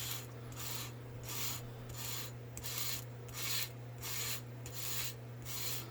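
A convex knife blade rubs on 600 grit sandpaper in steady back-and-forth strokes, each a soft rasping swish over a faint constant hum, close and fairly quiet.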